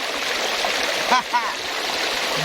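A clear stream flows at a waterfall near Nakhon Nayok, a steady broadband rush of water close by, with a brief voice cutting in over it.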